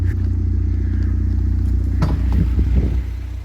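An Audi TT engine idles steadily nearby with a low, even hum, briefly joined by a few clattering knocks toward the end.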